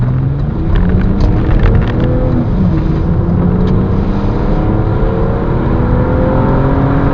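A 2001 BMW 330ci SE E46 coupe with an automatic gearbox launches from 0 to 60 on a wet road. The loud engine note rises in several sweeps as it accelerates, over the hiss of tyres on water.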